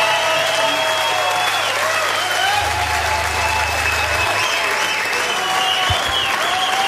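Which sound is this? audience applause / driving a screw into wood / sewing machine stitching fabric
audience applause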